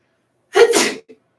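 A single sharp human sneeze, close and fairly loud, with a brief inhaled catch and a short faint sound right after it.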